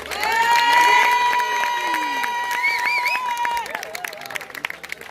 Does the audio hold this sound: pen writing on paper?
no